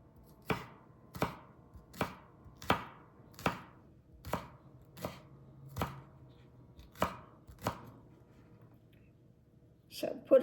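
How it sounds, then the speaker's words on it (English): A knife slices green onion on a cutting board in about ten evenly spaced, crisp chops, close and clear, followed by a brief clatter at the end. "I'm going to slice up some green onion to put in there as well."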